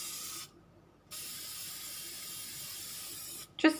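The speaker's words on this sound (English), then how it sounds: "And all I'm going to do is spray them on both sides." Liquid sprayed from a spray bottle onto book pages, two steady hissing bursts separated by a short pause, close and fairly loud, with a small clatter at the end.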